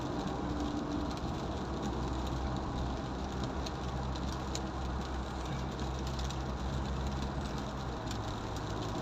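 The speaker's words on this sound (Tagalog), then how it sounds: "Buti inday-inday lang yung ulan." Steady broadband hiss of light rain blended with a low rumbling engine drone on an expressway, continuous throughout with no voices.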